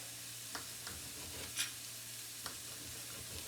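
Potatoes sauté in a frying pan, a soft continuous sizzle with a few light stirring scrapes and clicks, quiet and steady with no talking.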